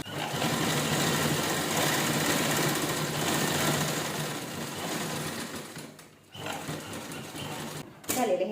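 A sewing machine stitches the folded edge of a towel bag made from an old shirt, a close, fast steady whirr that slows and stops briefly near the end before restarting.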